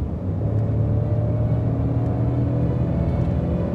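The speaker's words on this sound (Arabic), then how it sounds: "خلنا نختبر التسارع." A Lincoln Navigator with a twin-turbo engine and a ten-speed automatic accelerates, heard from inside as a steady, loud engine drone with road rumble.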